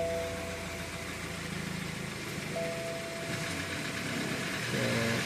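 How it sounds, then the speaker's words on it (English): A BMW X4 sits in drive with its engine revving, a continuous mid-pitched drone with steady tonal hum rising slightly near the end, close and alone without speech. "RPM rising, wheels not spinning."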